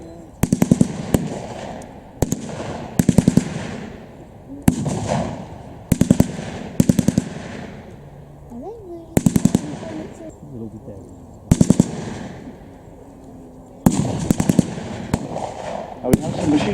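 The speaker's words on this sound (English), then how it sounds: "Now we have some machine gun fire from the opposite hedge" Machine gun fire crackles from a distant hedge at an outdoor WW2 battle re-enactment display, coming in short sharp bursts every second or two over a hushed open-air background.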